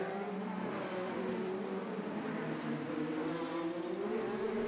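IndyCar race cars roar around the 2012 Long Beach street circuit, a loud sustained engine drone with rising and falling pitch as several cars pass, without speech.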